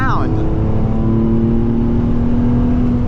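A Nissan 350Z engine gurgling as it accelerates, a loud, steady low rumble with a brief rising whine at the start, running under a voice talking.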